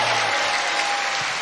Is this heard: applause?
yes